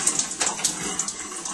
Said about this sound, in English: he's going to just put some warm water on his arm